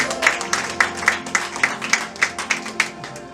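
A church congregation clapping in a steady, regular rhythm, evenly spaced claps carried over a low background hum.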